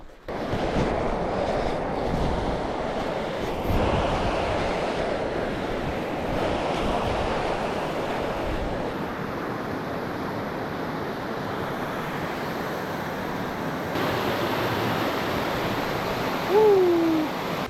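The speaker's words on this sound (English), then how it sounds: "This is the river under normal flow conditions." Grand Canyon river under normal flow, a steady broadband rush of moving water held at an even level throughout, close and continuous, with wind noise on the microphone and no talking.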